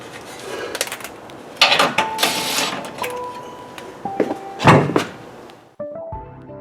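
Scattered clatter and rustling build to a loud, dull metallic thunk of a head hitting a Jeep Gladiator Rubicon's trailer hitch, followed by more knocking and a few short electronic tones.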